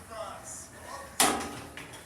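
Shopping centre lift doors at Castlepoint in Bournemouth shut with one sharp clunk partway through, set against a quiet, faintly humming lift interior.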